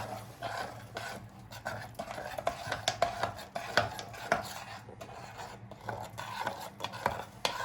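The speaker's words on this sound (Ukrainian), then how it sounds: "Вливаємо і постійно помішуємо." Chocolate cream glaze is stirred in a pot, with quiet, repeated scraping and clinking of a utensil against the metal in an uneven rhythm, close and soft.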